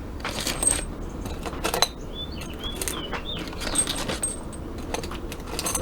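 Loose new bolts, nuts and washers for a motorized beach cruiser bike are handled and shifted, giving repeated close metallic clinks and jingles in short bursts, with quiet rattling between them and no talking.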